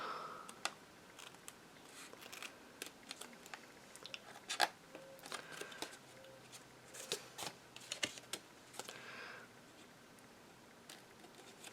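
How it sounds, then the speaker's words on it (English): Quiet scattered snips and small clicks come at irregular intervals, like scissors trimming paper close up, with faint rustling between cuts. "I'll just trim off these little edges."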